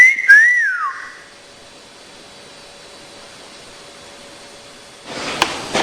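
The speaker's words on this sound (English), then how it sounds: "Go on, give us a wolf whistle." A single sharp wolf whistle rises and swoops down at the start, then fades into a quiet hiss before a burst of rustling noise.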